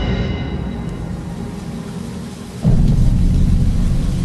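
Rain and thunder in a Thai drama scene: steady broadband rain hiss with a low rumble that swells suddenly into a loud, sustained thunder roll partway through, no voices.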